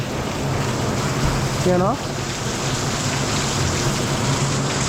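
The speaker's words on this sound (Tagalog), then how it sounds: "Grabe, malakas-lakas tong ulan ah." Heavy rain pours onto a house roof in Olongapo as a steady, dense hiss that fills the whole stretch, with a brief voice heard partway through.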